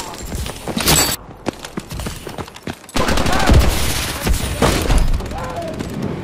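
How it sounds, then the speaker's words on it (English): Hip-fired gunfire rattles in Advanced Warfare multiplayer: rapid, close, loud bursts of automatic shots, then a brief lull and a longer sustained volley with sharp cracks and thuds. "I'm just hip firing"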